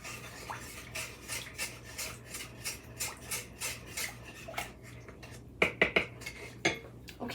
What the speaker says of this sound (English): I'm going to stir that in.